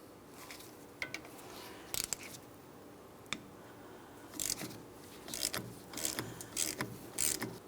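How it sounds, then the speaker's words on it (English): A 10mm wrench loosens the rear brake caliper bleeder screw on a 2015-2025 Ford Transit 250, giving faint metallic clicks and sharp ratcheting taps that come in short, scattered bursts against a quiet garage background. "For my bleeder screw, I'm going to be using a 10mm."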